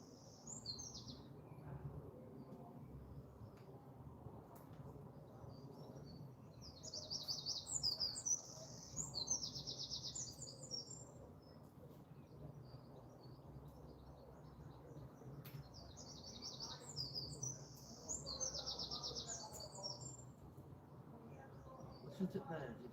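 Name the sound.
birds chirping and singing outdoors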